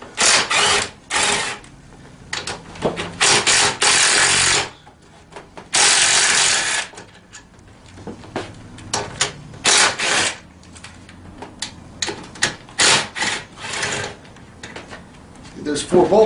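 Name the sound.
removing four bolts from the back of a mini ATV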